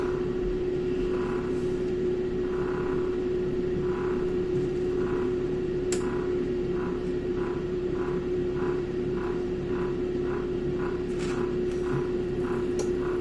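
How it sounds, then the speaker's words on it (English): An air fryer running, left on to keep cheese on toast warm, giving a steady mechanical hum with an even fan whir and faint pulsing over about thirteen seconds. "Left the air fryer on just so that it stays warm."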